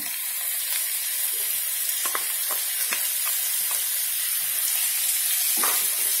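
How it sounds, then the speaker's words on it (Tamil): Grated beetroot sautéing with onions in a pan gives a loud, steady sizzle, with scattered clicks and scrapes of stirring throughout and no voices. "இப்போ நம்ம துருவி வச்சிருக்கிற பீட்ரூட்டை சேர்த்துக்கலாம்."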